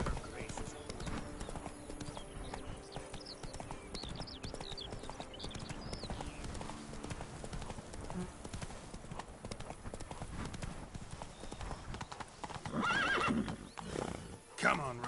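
In The Witcher 3, the horse Roach trots with steady clip-clop hoofbeats and neighs, with game speech and background sounds around it and a louder whinny near the end.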